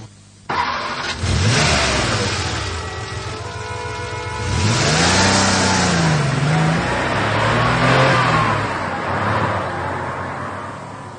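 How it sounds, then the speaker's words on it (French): A car pulls away with its engine rising and revving, loud and close and then fading slightly, with no talk over it. "Et voici la voiture de Nicodème Apoustifon le directeur général de la compagnie de cons"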